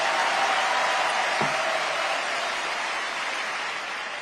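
A Korean church congregation at a worship service in Atlanta claps together in a steady, even burst of applause that slowly softens toward the end.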